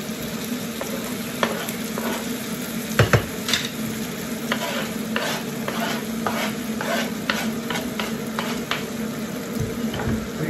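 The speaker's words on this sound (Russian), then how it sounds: "Лучок уже начинает шкварчить." Onions sizzle steadily in a frying pan, close and fairly loud, with repeated scraping strokes of stirring throughout.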